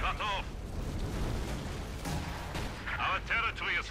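A B4 203mm howitzer fires in the Company of Heroes 2 strategy game, with deep, rumbling artillery booms and battle noise under a commentator's voice that speaks at the start and end.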